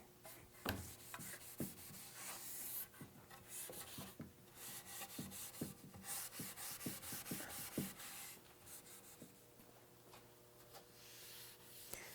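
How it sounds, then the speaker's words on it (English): Light hand-sanding over dyed wood furniture with very little hand pressure, giving a soft, continuous rubbing scrape with irregular strokes and small taps, close and steady with no talk. "So just very lightly, using very little finger pressure or pressure from your hand, go over all the surfaces of the dye."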